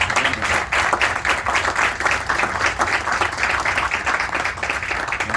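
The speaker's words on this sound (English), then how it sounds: "Let's give them a round of applause." A crowd at an outdoor groundbreaking ceremony for a garage applauds warmly, a dense, steady roar of many hands clapping throughout with no talk.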